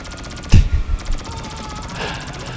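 Laser weapons fire from a spiked Mad Max-style car in GTA Online: a few short, punchy bursts close up over a low background hum.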